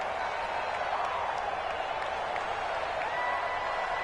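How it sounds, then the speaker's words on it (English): Stadium crowd in an American football video game, a dense continuous roar of cheering and applause-like noise that holds steady at a constant level with no break. "The crowd's not doing that O-line any favors. Home field advantage is really kicking in, making it very difficult for them to hear the snap count."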